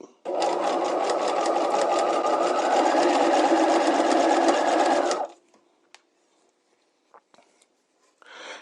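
A sewing machine stitches a piped seam with bias strip and cording, running at a steady, loud, fast whir for about five seconds before stopping, followed by a few faint clicks and handling noises.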